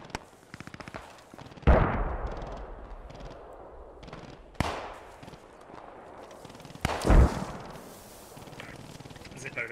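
Gunfire in Post Scriptum, a World War II shooter, cracks out as scattered single shots and short bursts, with a few louder nearby reports standing out over faint background rattle and occasional speech.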